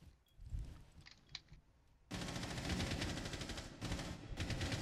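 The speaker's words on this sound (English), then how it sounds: "that's not you shooting, idiot" Rapid automatic gunfire in an online shooter game match, starting suddenly and continuing as a dense, loud, sustained burst after quieter scattered shots and ambient noise.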